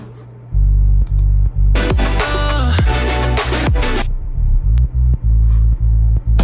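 A heavy synthesized sub bass pulses in a rhythmic pattern, joined midway by a brighter, gritty burst of bass texture before dropping back to the deep throb.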